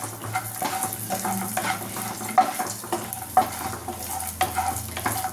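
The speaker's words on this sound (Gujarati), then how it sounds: "અને આપણે આ અખરોટના ટુકડા સાતળી લઈશું, જે થોડા ડ્રાય રોસ્ટ કરી લઈશું ફ્રેન્ડ્સ." Walnut pieces roast in ghee in a pan, sizzling steadily while a spoon stirs them, with repeated scraping strokes and a few sharper clinks against the pan, close and clear with no talking.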